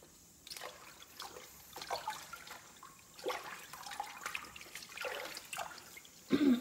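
Water sloshing and trickling in a basin as mustard greens are washed by hand, with soft irregular splashes and dribbles close by, growing briefly louder near the end.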